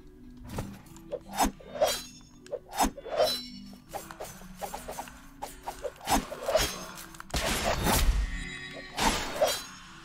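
Objects shattering into shards in the video game Death's Gambit: a series of sharp crashes and thuds spaced a second or so apart, with a longer burst of breakage and rumble near the end, and no talk.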